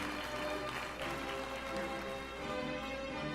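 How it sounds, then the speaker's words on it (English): Audience applause at a 2023 graduation ceremony after graduates' names are read, a steady dense wash of clapping from a large crowd, sustained and even throughout with no voices over it. "Round of applause, please"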